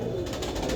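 A single short, low coo comes from a fancy pigeon close by over a steady background hum.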